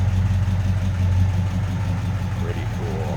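A 1953 Ford F100 pickup's flathead 239 V8 idles with a mild stock exhaust, a steady low rumble close by, while someone talks over it.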